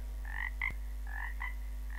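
Repeated frog croaks in a Ukrainian animated fable about a frog and an ox, coming in short paired bursts, moderately loud and close over a steady low hum, with no talking.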